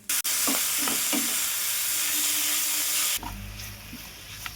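Chicken pieces coated in a ginger, fennel, curry leaf, turmeric and salt paste hit a hot pan and sizzle loudly, with a few stirring scrapes, before the frying settles into a lower, steadier crackle with a deeper rumble.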